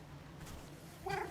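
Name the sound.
cat meowing in a video game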